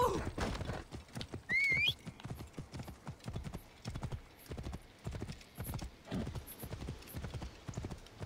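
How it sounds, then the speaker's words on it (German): Horse hooves clip-clop steadily in Assassin's Creed Origins, a fast even rhythm of close thudding beats running throughout, with a brief whinny early on and a faint whistling tone. "Oh, das ist ein Pferd."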